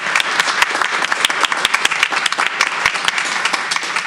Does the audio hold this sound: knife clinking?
no